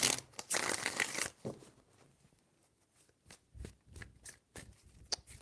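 Tarot cards are shuffled in a loud riffling burst, then softer taps and cuts follow in an irregular rhythm, close and alone.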